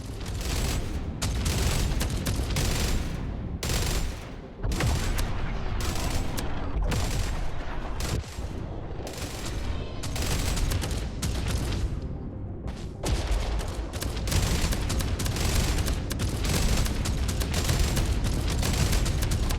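Weapon fire in the space shooter game Jump Ship: sustained, loud bursts of rapid shots and booming blasts, pulsing in irregular volleys with brief gaps over twenty seconds.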